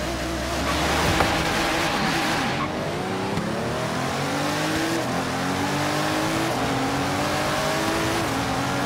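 A 2016 Pagani Huayra BC races in Forza Horizon 3, its engine roaring loud and continuous as it revs through rising gear pulls, with tire squeal and other cars running close alongside.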